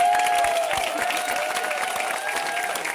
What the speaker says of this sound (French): Une main d'applaudissement pour Jacqueline